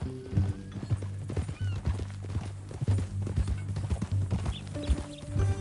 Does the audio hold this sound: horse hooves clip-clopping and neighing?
yes